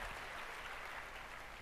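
Conference audience clapping and cheering at a talk, a steady dense wash of applause that holds evenly throughout.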